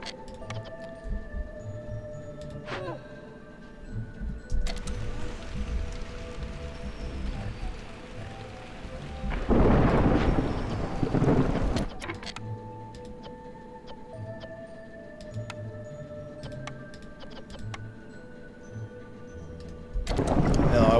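Rumbling thunder and a rush of rain from a storm in the city-building game Against the Storm swell up loudly midway and again at the end, over steady tonal game music with no talk.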